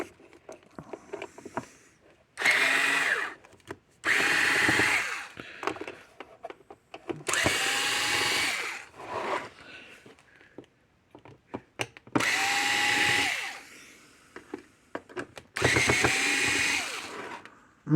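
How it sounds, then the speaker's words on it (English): A power drill or driver backs screws out of a Kencove K4 electric fence charger, several loud whirring bursts of a second or two each, separated by short quiet gaps and handling clatter. "let's take the screws out of it here"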